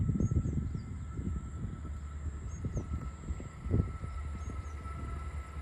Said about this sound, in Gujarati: ટ્રેન આવે છે ભાઈ ટ્રેન અહીં ચાલુ થઈ ગઈ લાગે